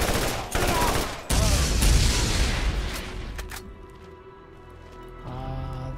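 Rapid rifle gunfire from the Borderlands video game, sharp bursts of shots near and loud at the start, then trailing off into quieter game ambience.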